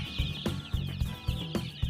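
A batch of newly hatched farm chicks, fresh out of the incubator, keep up high continuous peeping while regular low thuds pulse underneath roughly every quarter second, close and steady.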